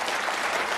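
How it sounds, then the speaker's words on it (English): Studio audience at a British TV game show applauding, a brief, steady burst of dense clapping heard on its own. "the audience are applauding there because there's a bit of pressure in all that lot"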